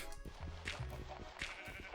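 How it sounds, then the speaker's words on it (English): A blocky cow in the Minecraft video game gives short, bleating hurt cries as it is struck, a few quick animal calls close up over a quiet game background. "That cow really didn't like getting hit, huh?"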